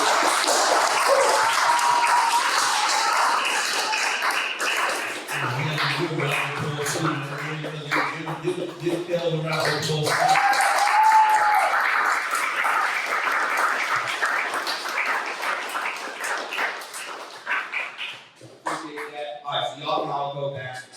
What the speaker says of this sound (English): Kevin, get a round of applause.